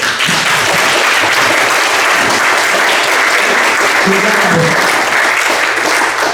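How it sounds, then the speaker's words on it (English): Audience applause at a climate action session for project managers, loud, dense and sustained clapping filling the room without a break, with faint voices beneath. "We have not asked you to hold your applause."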